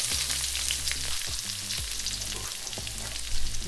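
Onions and peppers dropped into a hot pan that previously held sea bass for a fish curry, crackling and sizzling steadily at close range with a few scraping stirs, no voices.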